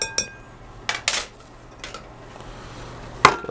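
A metal pan clinks and scrapes in a home kitchen while spaghetti carbonara is stirred, giving a few sharp knocks spread across a quiet background.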